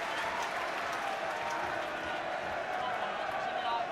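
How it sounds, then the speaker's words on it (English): A home football crowd at a Swindon Town match against Chelsea stands and applauds its players, a steady, dense wash of clapping and crowd noise that holds evenly throughout. "They've all just been standing up and applauding their players."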